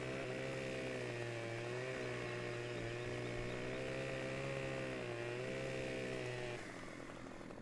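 A chainsaw in Farming Simulator 17 drones steadily while cutting down trees, a loud continuous buzzing whine that holds level for several seconds before easing slightly near the end.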